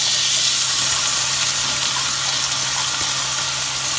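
Garlic drops into hot oil already crackling with mustard seeds, urad dal and dried red chillies for a gongura curry. It gives a loud, dense, steady sizzle close up, with no pauses.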